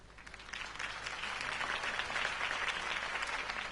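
A crowd in the video game Batman: The Telltale Series claps steadily, building slightly and holding at a dense, even patter of applause for a few seconds.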